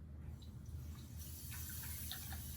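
Cold tap water from a kitchen sink runs into a rice cooker pot, a soft continuous splashing and trickling that is faint and steady, with no voices.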